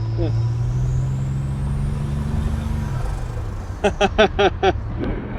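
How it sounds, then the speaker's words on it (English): A 1987 Buick Grand National driving down the road at light boost, its turbo giving a thin high whine that climbs slowly over a low engine drone, with a short burst of voice near the end. "Oh, you can hear the turbo."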